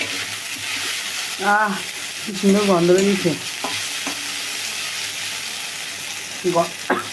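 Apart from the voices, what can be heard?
food frying in a pan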